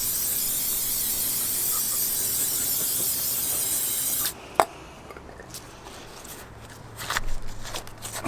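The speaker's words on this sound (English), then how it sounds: "we've got some brake cleaner just to agitate it and clean it up" Brake cleaner sprayed from an aerosol can onto car parts of a turbo Honda Integra, a loud continuous hiss lasting about four seconds, then stopping, followed by faint rubbing and handling noises.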